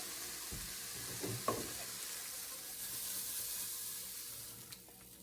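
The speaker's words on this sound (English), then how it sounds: "Okay, so I'm going to add those mushrooms right here." Mushrooms sizzle and fry in a hot pan for beef bourguignon, a steady close crackling hiss throughout with a few brief stirring clatters near the start.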